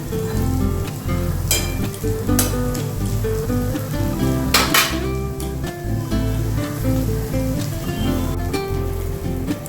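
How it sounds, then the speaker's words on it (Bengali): Grated coconut fries in a pan with a loud, constant crackling sizzle up close, broken by a few sharper scrapes and pops of stirring, with no voices. "এইভাবে নারকেলগুলোকেও একটু লালচে করে ভেজে নিয়ে"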